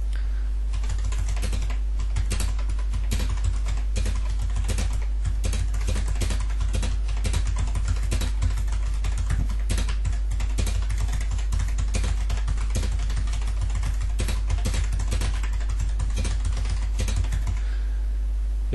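Steady, rapid touch typing on a computer keyboard during a ten-finger typing exercise, a dense continuous stream of loud, close key clicks lasting throughout with no voices.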